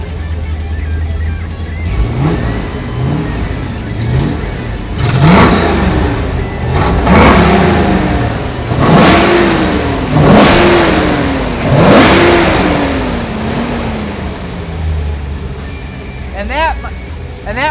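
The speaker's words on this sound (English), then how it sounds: "I want you to hear those dual 4 barrels opening up." A 1-of-2 Mopar Coronet R/T convertible's V8 with dual four-barrel carburetors revs hard and loud, in repeated rising and falling surges that climb higher, then settles back to a rough idle, heard up close with no talking.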